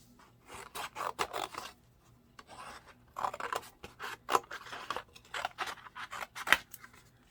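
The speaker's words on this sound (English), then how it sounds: "You could do just kind of a rough cut around the outside." Paper holiday tags being cut out by hand with a small pair of scissors: bursts of crisp snipping and rasping blade strokes in irregular runs, close and clear, with short pauses between cuts and no talking.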